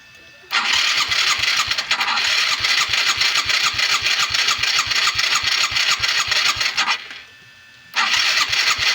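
A 2013 Skydrive 135 carburetor motorcycle engine cranks and catches, running loud and close with a rapid throbbing beat for several seconds, cutting out briefly, then restarting.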